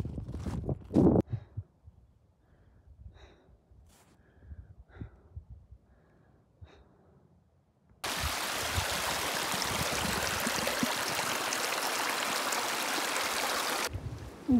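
A mountain trail stream swollen with snowmelt rushes across the path, loud and steady after a quiet stretch of light rustling and footsteps.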